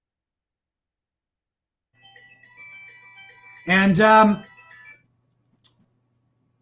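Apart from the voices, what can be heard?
mobile phone ringing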